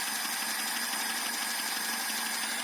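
A Lada 2106 with a 1300 engine and a rebuilt Chinese carburetor runs cold at idle, a steady, even, dense mechanical drone with a fine rapid ticking, loud and close throughout.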